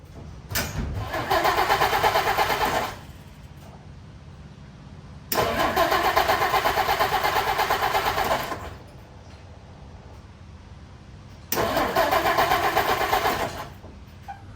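A 1952 Dodge Wayfarer engine cranks and catches three times in a row, running a couple of seconds each time before stalling back to quiet, loud and close.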